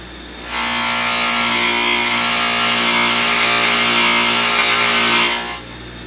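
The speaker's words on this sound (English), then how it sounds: "I take usually the last few teeth on the saw and then touch it to the wheel" Old saw teeth pressed against a spinning wheel to clean off gunk during a screwdriver restoration, giving a steady loud grinding whir that starts abruptly, holds for about five seconds, then cuts off, with no talking.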